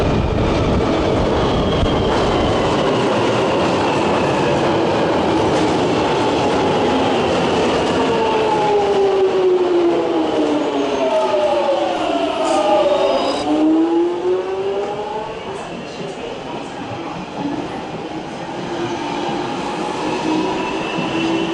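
A London Underground train at Bond Street station roars loudly and continuously nearby, with rising and falling motor whine and rumbling wheels throughout.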